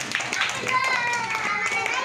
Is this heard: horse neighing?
no